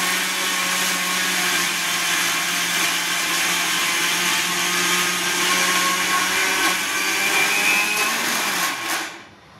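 A mixer grinder whirs steadily at close range as it grinds sesame seeds into chutney, a loud continuous motor drone that runs for several seconds and then quickly winds down and stops.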